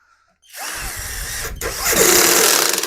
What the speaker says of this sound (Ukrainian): Цей храповий механізм, як він працює. А ну пробуємо.